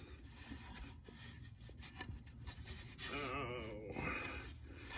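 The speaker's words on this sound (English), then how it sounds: "So I've gotten in here and I've scraped as close as I can." Close, rasping scrapes against a metal tag on the transmission of a 1968 Shelby GT500KR barn find, rough back-and-forth rubbing that turns louder and more grating partway through.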